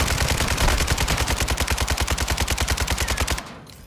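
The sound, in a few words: automated turret gunfire in Call of Duty DMZ video game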